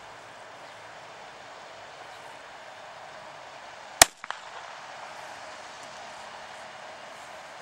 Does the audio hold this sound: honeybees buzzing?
no